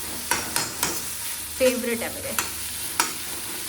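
Green vegetables being stirred as they fry in a pan for a home-cooked lunch, with repeated scraping strokes over a steady soft sizzle and a brief bit of quiet talk.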